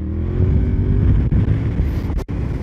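Yamaha XSR 700 with its CP2 parallel-twin engine pulls hard on an open road, a loud, close, steady engine drone, and the throttle drops back briefly near the end.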